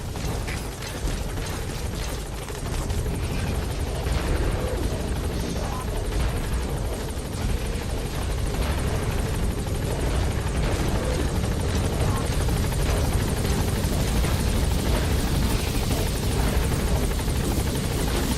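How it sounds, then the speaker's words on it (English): A helicopter arriving in Metal Gear Solid 5, heard as a loud, continuous rotor thrum and mechanical whir that fills the whole stretch, with voices faintly underneath. "Komm, Heli, komm"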